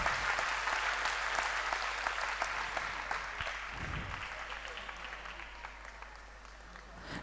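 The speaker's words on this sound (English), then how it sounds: "Let's have a loud round of applause." An audience applauds after a dance performance, clapping thick and continuous at first, then slowly thinning and fading over several seconds.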